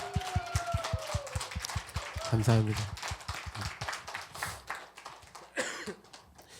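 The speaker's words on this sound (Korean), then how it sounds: "그렇게 인도하신 하나님께 우리 한번 박수로 영광 드리겠습니다." A church congregation claps in a quick steady rhythm during a worship service, many hands beating together while someone speaks over the clapping.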